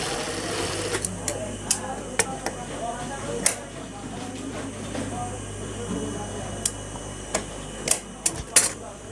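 A sewing machine stitches a boy's salwar, running with a steady whirring hum broken by sharp, irregular ticking clicks. A voice talks over it at times.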